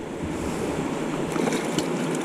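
Fast-moving, well-oxygenated water of the West Walker River, a steady rushing wash with light wind buffeting at the microphone, continuous and moderately near.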